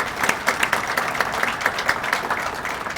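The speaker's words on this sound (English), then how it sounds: "So please give yourself a round of applause." Audience applause at a police awards ceremony, a steady stretch of many hands clapping together in a room that keeps an even level from start to finish.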